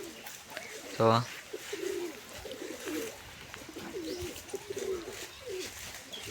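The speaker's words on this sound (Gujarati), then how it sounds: "જંગલી કબૂતર માંથી બેઠું છે અહીંયા" Wild pigeons cooing nearby where they roost by their eggs, soft repeated low coos running through the clip beside a brief loud burst and a short spoken word.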